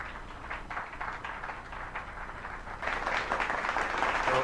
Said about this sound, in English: So, a bigger round of applause,